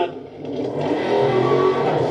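A Dodge Charger Scat Pack 392 accelerates hard out of a U-turn, the engine building from a dip into a loud, rising roar that holds to the end.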